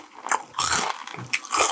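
Doritos 3D Crunch Three Cheese chips bitten and crunched up close, with several sharp, crackly bursts in an uneven rhythm and short quiet gaps between bites.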